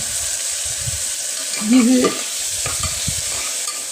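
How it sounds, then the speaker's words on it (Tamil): Ground onion paste sautéing in a pan while being stirred for a dried fish curry: a low continuous sizzle with soft scraping stirs, and a brief spoken word partway through. "இதையும் நல்லா வணக்குவோங்க"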